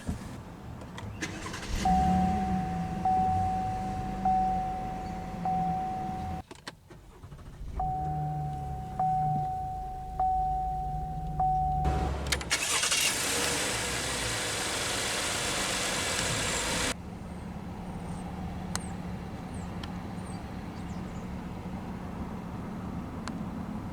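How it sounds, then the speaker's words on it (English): Inside a 2019 Cadillac CTS Luxury with a 3.6-litre AWD, a chime sounds twice at push-button start, then the engine cranks and starts with a loud rush before settling into a steady, quiet idle. "we'll go ahead and start the engine, and it does have push-button ignition"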